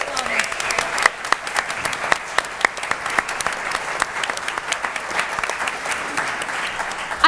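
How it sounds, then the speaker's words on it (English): A conference audience gives a sustained round of applause, steady dense clapping with a few sharper louder claps standing out, filling the room for several seconds. "Can we have a big round of applause for the team at Progress?"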